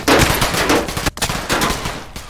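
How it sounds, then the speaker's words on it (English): Rapid bursts of gunfire from a video game shooter, dense and continuous across the clip with brief gaps, loud and close with no talk over it. "Okay, are you shooting me?"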